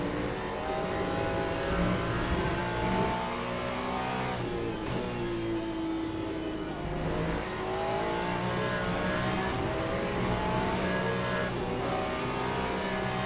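A Ferrari LMGT3 race car engine screams around Spa in the video game Le Mans Ultimate, loud and close, rising through the revs with gear shifts breaking the climbing tone, and other cars faintly around.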